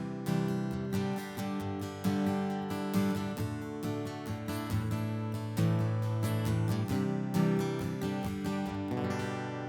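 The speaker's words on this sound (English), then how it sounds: "So basically, I can go all the way to the undersaddle pickup." An acoustic guitar is strummed through an undersaddle pickup, giving a bright, slightly buzzy amplified tone as chords ring out one after another with no talking.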